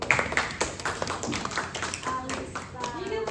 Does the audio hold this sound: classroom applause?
yes